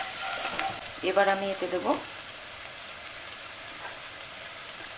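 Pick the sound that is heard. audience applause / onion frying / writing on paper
onion frying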